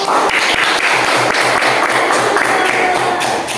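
Classroom applause for a student group after their presentation, a steady wash of many hands clapping together, loud and continuous throughout with no break.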